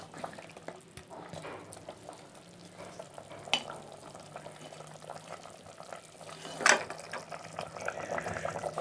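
Beef pieces boiling in a pot of water for biryani, a quiet bubbling simmer with soft sizzling and occasional stirring clinks and splashes.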